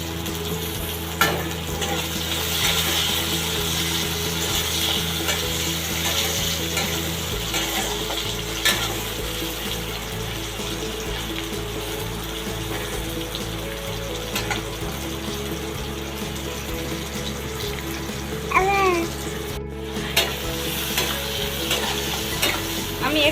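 Chopped tomatoes fry and sizzle in a pan with golden-browned onions while a utensil stirs and scrapes steadily throughout, with a few brief clinks near the end.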